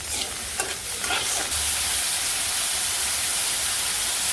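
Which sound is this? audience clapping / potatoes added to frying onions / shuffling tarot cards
potatoes added to frying onions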